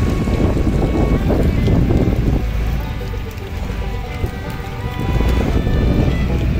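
A houseboat motors along the backwaters of Alappuzha, Kerala, its engine a close, heavy low rumble mixed with gusty wind buffeting the microphone, steady throughout.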